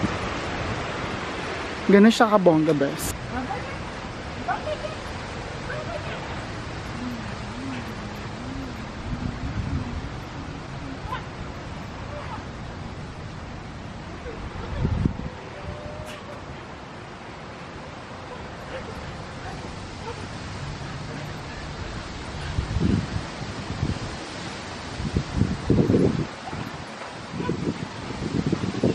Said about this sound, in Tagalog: dinig na ba yung hangin?